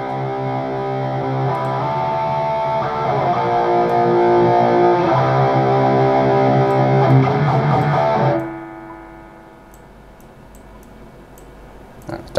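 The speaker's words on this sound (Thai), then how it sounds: "อันนี้คือเสียงปลั๊กอิน" Electric guitar runs through a plugin effect on a Boss GX-100 audio interface, giving a dense, sustained distorted tone that rings steadily for about eight seconds, then cuts off abruptly, leaving a low hum and faint clicks.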